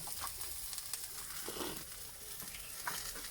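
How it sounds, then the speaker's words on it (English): Steady sizzling of onions frying in a pan, a constant crackling hiss with small pops throughout. "I'm busy frying the onions"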